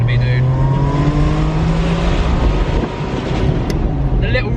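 A Ferrari 550 Maranello's F133 V12 roars loud and steady throughout, its throaty engine note held high and close as it revs, with a faint mechanical whine rising near the end.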